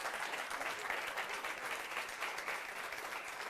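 Dense, steady applause from an audience at a mentalism show, sustained and even for the full stretch with no pauses or voices rising above it.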